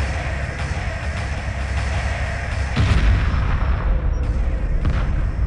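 Heavy weapons fire during a space battle in Homeworld 2, a continuous rumbling barrage with repeated thumping impacts that grows louder midway and carries on steadily, with no talk over it.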